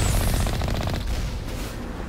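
Mass Effect Legendary Edition gameplay brings a short, loud burst of rapid machine gun fire that fades into a dull rumbling echo within about two seconds, with no talking.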